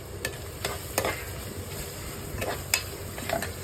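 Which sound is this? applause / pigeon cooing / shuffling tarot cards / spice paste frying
spice paste frying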